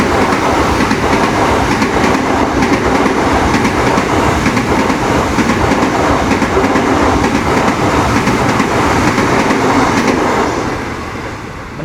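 A train rumbles past close by, a loud, steady broadband roar with clattering wheels on rail that holds for about ten seconds, then begins to fade as it moves away.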